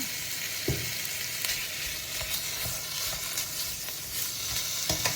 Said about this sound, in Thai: เราเริ่มจากผัดหมูใส่หมูลงไปรวนก่อนนะคะ